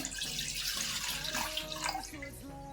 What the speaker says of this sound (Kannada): 1/4 ಲೀಟರ್ ಹಾಲು ಹಾಕೊತಾ ಇದ್ದೀನಿ